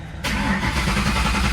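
A Buick Electra fitted with a side exit exhaust fires up abruptly after a brief crank. It settles straight into a loud, rumbling idle heard up close, with no talk.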